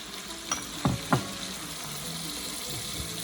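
Pork sizzles in a pan for kilawin as cooking wine goes in, making a steady soft hiss with two or three sharper clinks and splashes near the start.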